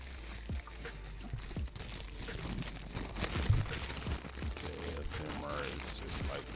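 Paper packing from an Air Jordan 6 Retro Olympic shoe box crinkles and crunches close up, a soft continuous rustle with occasional sharper crackles and handling bumps.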